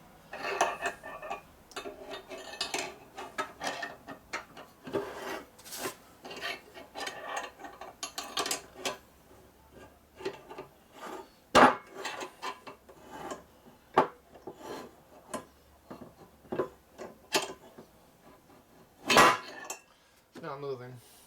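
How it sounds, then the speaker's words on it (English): Screwdriver prying at a stuck, rusted distributor on a 1962 Harley-Davidson Panhead engine with a blown-up case: irregular metallic scrapes, clinks and sharp knocks, close and fairly loud, with a few harder strikes standing out. "The screwdriver goes underneath it and tries to yank it out."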